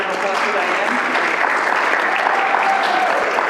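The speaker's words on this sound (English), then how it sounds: "a round of applause for Diane." Steady, dense audience applause at a community benefit concert, loud and sustained throughout with many hands clapping at once and no gaps.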